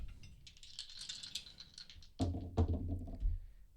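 Two dice rolled at the start of a Magic cube card game to decide who goes first: a soft, high rattle of shaking, then several close, sharp clattering knocks as they tumble across the table, with no talking.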